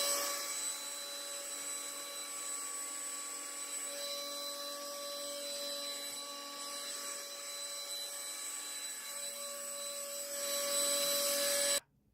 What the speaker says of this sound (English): I was vacuuming some sawdust